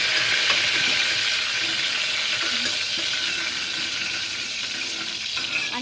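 Curry leaves and a bay leaf sizzle in hot oil for Malvani-style misal, a steady loud crackling fry that continues without pause, close by.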